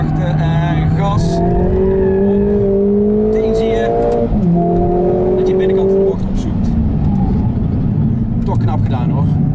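Hot hatchback, either a Mercedes-AMG A45 S or a Renault Mégane Trophy-R, accelerating at full throttle, its engine note climbing through repeated rising sweeps broken by brief gear-change dips, loud and close throughout.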